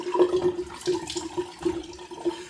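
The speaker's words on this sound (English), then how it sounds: "Rinse the face with a bit of warm water now." Warm water runs from a sink tap for rinsing during a wet shave, a soft, continuous splashing flow close by, with no voices.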